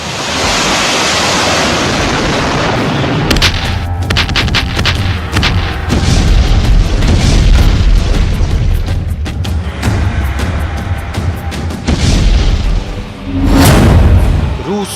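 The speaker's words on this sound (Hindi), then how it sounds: "एक के बाद एक आग उगलती ये मशीन यूक्रेनी सेना की तरफ से रूस पर दागे जा रहे रॉकेट लॉन्चर हैं।" Ukrainian army rocket launchers firing toward Russia, a loud run of booming blasts and roaring bursts in quick succession over a rough, wind-buffeted rumble, with a final heavy surge near the end.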